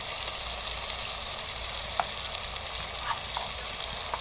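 Garlic with red chilli powder, turmeric and salt fries in a pan for a bitter gourd and beef curry, giving a steady soft sizzle with a few faint clinks of a stirring spoon, no voices.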